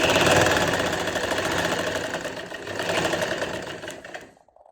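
Sewing machine stitching a finishing strip onto the edge of a dupatta, a steady rapid mechanical whir with fast rhythmic needle clatter running loud and close before cutting off abruptly near the end.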